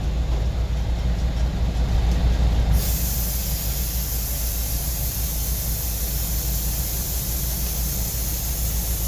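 A locomotive on the East Terminal Railway rumbles steadily up close, a low continuous engine drone with broadband rail noise that brightens partway through and holds without speech.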